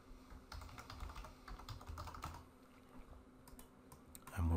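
Typing a password on a computer keyboard while setting up an admin user, a quick run of soft clicking keystrokes in bursts, faint and near, with a short pause before a final flurry of keys.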